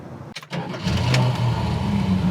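A 1972 Dodge Challenger V8 cranks briefly, then catches and settles into a loud, steady, rumbling idle close by.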